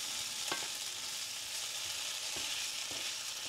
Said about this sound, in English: You want to keep the potatoes moving around quite a bit at first because otherwise they have a tendency to stick to a skillet